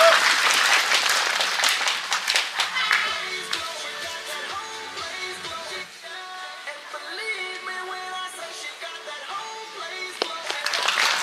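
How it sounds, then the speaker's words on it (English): An audience at a cultural show in Nagaland claps for a pageant titleholder, with a burst of loud clapping that thins into scattered claps under music and background chatter, then rises again near the end. "Can we all clap for her to appreciate her efforts?"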